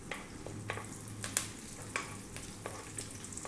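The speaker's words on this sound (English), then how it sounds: "We're going to drop in 2 teaspoons of cumin seeds and some fresh curry leaves." Cumin seeds and fresh curry leaves sizzling in hot oil over high heat, a faint, steady crackle broken by sharp pops and spits at irregular moments.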